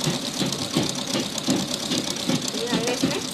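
A sewing machine stitches a small doll dress with a rhythmic, mechanical chugging pulse at a steady pace, close to the listener, while a voice murmurs faintly beneath.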